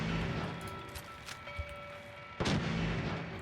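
Gunfire is traded in a video game, with scattered shots and a couple of sharper cracks against a steady background, moderately faint and with no talk.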